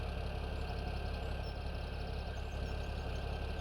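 The tractor engine in Farming Simulator 17 drones in a steady, even idle-like rumble, continuous and moderately loud throughout, with no speech over it.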